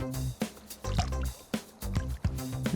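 Plants being watered in the Disney Dreamlight Valley video game: repeated short, splashy water bursts arrive in a steady rhythm, several in a row, fairly quiet and with no talking.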